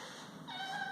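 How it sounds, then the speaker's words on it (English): A small kitty gives a brief, faint meow near a robotic vacuum cleaner, a short thin cry rising near the end over quiet room noise. "Don't mind my little kitty."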